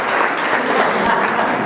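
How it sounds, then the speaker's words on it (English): A crowd at a citizens preparedness gathering in Beacon's Veterans Memorial Building applauds steadily, a dense, even wash of clapping with faint voices mixed in. "Give yourselves a big round of applause here"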